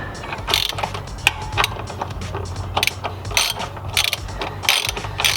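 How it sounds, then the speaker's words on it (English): A hand ratchet clicks in quick bursts while bolts are tightened on a BMW E46, with short rapid pawl ticks in separate runs, close and clear over a quiet background. "until you need to tighten it with the ratchet"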